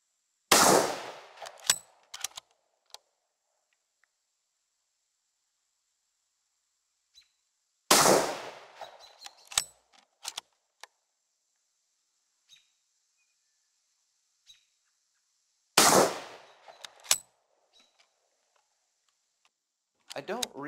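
Three loud, isolated rifle shots from a .375 H&H firing 350 grain copper hollow points ring out outdoors several seconds apart, each followed by brief clatter and metallic clicks, with quiet gaps in between.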